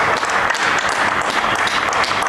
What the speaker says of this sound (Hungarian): tapssal köszönték meg a segítők mindennapi helytállását